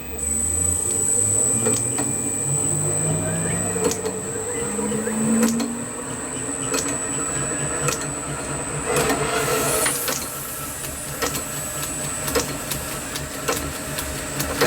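A metal lathe starts up and runs steadily while machining an engine cylinder for an oscillating engine, a continuous mechanical whine with a rising pitch as it spins up, and faint rhythmic clicks over a steady hum.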